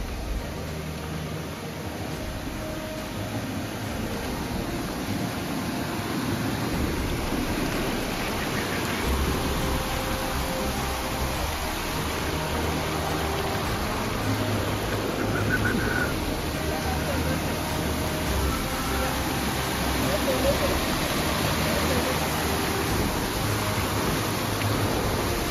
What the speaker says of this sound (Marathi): छोट असं लागलेलं धबधबा